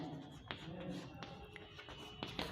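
Chalk or marker scratching and tapping on a board during a chemistry lesson, faint and close, with short strokes and sharp taps at irregular intervals.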